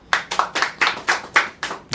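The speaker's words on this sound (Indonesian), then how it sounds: "boleh tepuk tangan?" Steady rhythmic hand claps, about eight sharp beats in quick succession, close and fairly loud with no talking.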